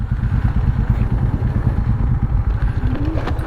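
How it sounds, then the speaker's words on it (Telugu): Motorcycles climb an off-road hill, their engines loud and close with a rough, pulsing growl, and a faint whistle-like tone appears near the end. "ఇప్పుడు మా బైక్స్ పైకి వెళ్ళాలి"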